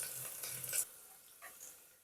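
Sliced onion with dried red chilli stirred and fried in a pan over a low gas flame gives a faint, soft sizzle with brief scraping stir strokes, quiet and alone.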